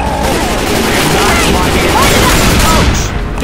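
Dense gunfire and explosive booms from a Left 4 Dead 2 tank-run round on The Parish, a continuous loud barrage with a voice shouting over it.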